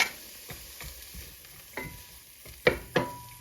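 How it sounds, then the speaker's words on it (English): Vegetables sizzle steadily in a hot pan, with a few sharp clicks and scrapes of stirring breaking through the frying hiss. "the pan is hot, so we're going to put this in. Here it's sizzling."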